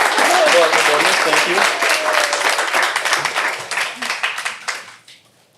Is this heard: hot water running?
no